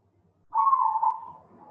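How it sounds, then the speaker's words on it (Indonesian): A single bird call from outside a home during a morning online class, one clear drawn-out hooting note that slowly fades, heard alone against near silence. "Ada suara burung, Pak."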